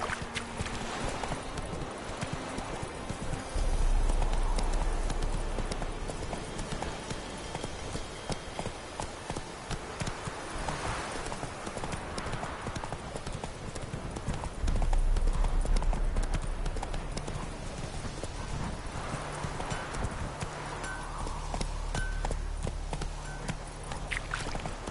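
Roach, a horse in The Witcher 3, gallops continuously with rapid, even hoofbeats close by, swelling periodically into louder deep thumps over a steady background, with occasional brief speech over the hooves.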